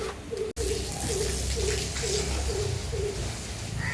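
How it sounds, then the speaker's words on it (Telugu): A crow-like garden bird gives a regular series of low, hollow hooting calls, about seven evenly spaced notes, over a steady background wash. "సౌండ్ వినబడుతుందా మీకు? జౌడు కాకి అన్నమాట."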